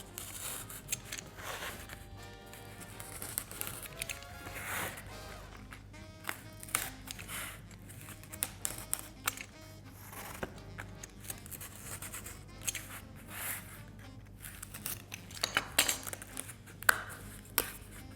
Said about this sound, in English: we're going to need to cut some V shapes out